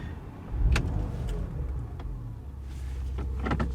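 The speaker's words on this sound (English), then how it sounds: "Start the car up and do some driving" A Porsche Macan GTS starts up, with a low engine rumble swelling early, a brief mechanical whir and a few clicks, then a steady idle that builds slightly toward the end.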